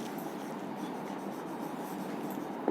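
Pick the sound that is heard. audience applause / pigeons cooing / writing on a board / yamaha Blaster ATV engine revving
writing on a board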